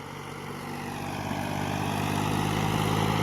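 A tractor engine roars as the tractor labors, stuck in sandy soil, with a steady low drone that gradually grows louder and strains continuously.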